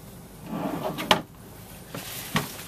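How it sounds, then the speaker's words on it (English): Pull-out drawers in a Coach House Platinum 271 XL motorhome slide and close, giving a soft sliding rumble followed by a few sharp wooden knocks and thuds, close by and without speech. "Nice pull-out drawers, more added storage"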